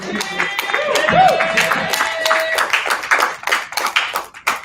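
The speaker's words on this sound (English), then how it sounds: "Y'all give another warm round of applause for Daniel." A crowd in Pittsburgh, Pennsylvania claps for a performer, a warm round of applause that swells then thins into scattered claps, with a voice speaking over the start.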